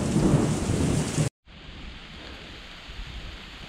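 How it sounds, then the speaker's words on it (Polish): Heavy rain and a thunderstorm heard from a mountain shelter along a trail in the Beskidy mountains, a dense, loud rumbling downpour that cuts off abruptly, then gives way to a fainter, steady hiss of rain. "Takie gwałtowne deszcze i burze są zazwyczaj przelotne, także poczekamy sobie, aż to przeleci."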